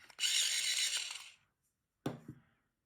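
Crayola watercolor pencil being turned in a small sharpener: a dense, scratchy grinding burst of about a second and a quarter, then silence and a short rustle near the end, close and clear with no talking.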